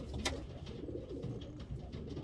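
A black pigeon in a breeding loft coos in low, throaty rolls, close by and continuous over a soft ambient background, with no one speaking.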